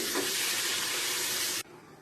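Steady broadband rush of water pouring into a hot pan of oil, garlic, onion and chicken hearts, loud and close, with a faint sizzle, cutting off abruptly near the end.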